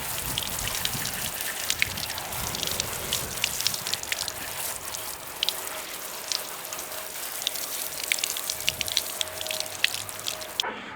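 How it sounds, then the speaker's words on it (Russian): Running water rinses the salt off salted lamprey fish before smoking, a steady, close spatter and patter of water hitting fish and sink that continues without pause and without any voices. "теперь я просто смываю соль"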